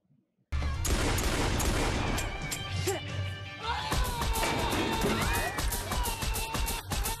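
Heavy gunfire rings out in a rapid, dense volley from the movie Tucker & Dale vs. Evil, with crashing impacts and commotion. The shots start abruptly and keep going, loud and close, with no speech over them.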